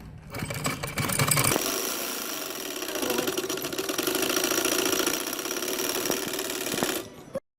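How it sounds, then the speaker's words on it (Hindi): A sewing machine runs a fast, continuous rattling stitch along a sleeve for several seconds, close up, then stops abruptly. No one speaks. "मैंने नीचे सिलाई लगा ली है, अब मैं दूसरी तरफ सिलाई लगाऊंगी।"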